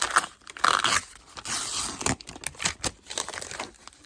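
A paper quilting pattern is ripped away from stitched fabric, close crackling and tearing in uneven bursts with crinkling in between.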